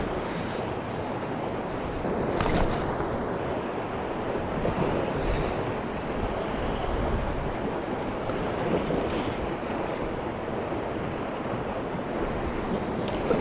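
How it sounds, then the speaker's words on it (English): Sea water surges and rushes past a rock ledge on the UK coast, a steady, close wash of waves and surf roaring continuously with some wind buffeting the microphone and no talk. "I love the energy of having all that water just rushing past."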